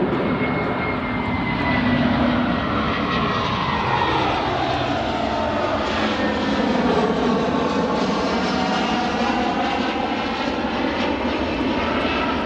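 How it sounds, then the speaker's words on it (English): A Delta airliner arriving at O'Hare International Airport, a loud, sustained jet engine roar with a slowly shifting whine as it passes, steady throughout with no talk. "Delta arrival."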